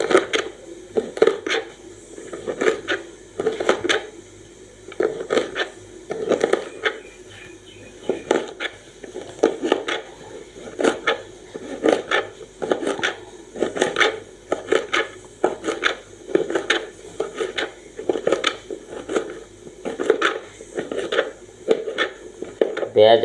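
A knife slices through thattakkai vegetable in a steady run of crisp, repeated chopping strokes against a board, close and fairly loud, with no talking.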